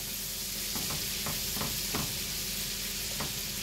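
Onions fry in a pan with a steady, close sizzle, and several soft utensil scrapes from stirring break through the constant hiss.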